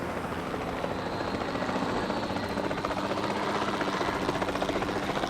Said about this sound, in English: we'll man the chopper and try and capture them